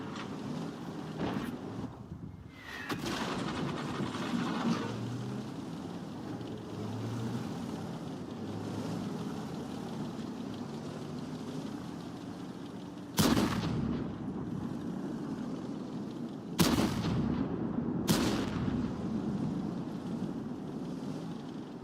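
A tank cannon in World of Tanks booms in a few widely spaced, heavy blasts over a low rumbling battle ambience, two shots early, then three more later, each loud and abrupt.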